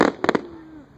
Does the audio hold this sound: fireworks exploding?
yes